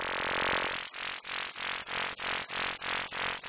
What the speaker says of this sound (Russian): можно создать звук какого-нибудь футуристичного или мультяшного двигателя без особых знаний в синтезе